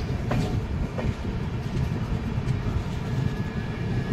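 A train bound for Ayodhya rumbles steadily along the tracks with a constant low roar and faint rhythmic clatter, close and loud, with no voices.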